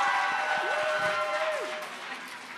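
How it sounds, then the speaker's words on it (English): An audience at a high school show choir festival applauds the performing groups, a dense, continuous wash of clapping with a few cheers mixed in, heard from within the hall. "Let's take another moment to give a round of applause to all the groups who have shared their music with us this evening."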